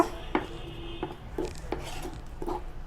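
Natural hair dye paste mixed in a bowl, soft rhythmic scraping and clinking of a spoon against the bowl at about one stroke every half second, close and fairly quiet.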